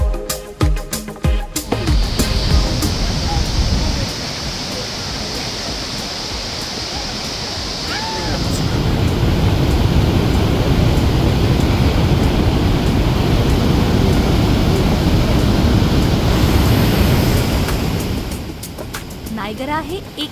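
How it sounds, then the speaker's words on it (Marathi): Niagara Falls, on the border between the United States and Canada, gives off a continuous, loud, broadband roar of falling water that carries on for many seconds. "नायगरा वॉटरफॉल हा जगातल्या सगळ्यात मोठ्या धबधब्यांपैकी एक आहे"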